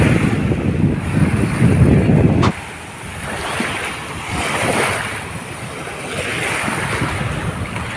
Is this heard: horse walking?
no